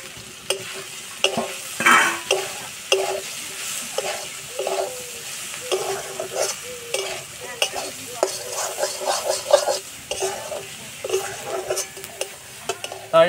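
Soybean chunks sizzle in a pan with fried potato and carrot, with a spatula scraping and stirring in irregular bursts. The sizzle holds steady and close, and no one speaks.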